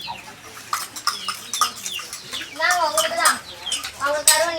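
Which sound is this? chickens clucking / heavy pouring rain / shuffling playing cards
chickens clucking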